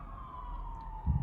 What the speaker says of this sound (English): There's an ambulance right now,